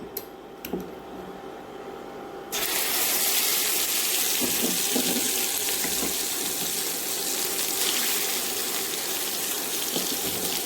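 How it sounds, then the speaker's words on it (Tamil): Mustard seeds and urad dal in hot sesame oil for a garlic pickle tempering: after a quiet start with a couple of clicks, a dense, steady hiss of spluttering bursts in and holds loudly to the end. "இப்போ கடுகு உளுந்த பருப்பு நல்லா காய்ஞ்சிட்டு இனிமேல் நம்ம வந்து இதை தாளிச்சிடலாம்"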